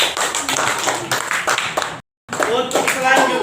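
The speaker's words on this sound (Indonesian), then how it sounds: "Tepuk tangan untuk Sunan Kudus." Students in a classroom activity at a school teachers' event clap loudly for a group, with rapid overlapping claps and voices over them. The clapping breaks off for a brief silence, then resumes.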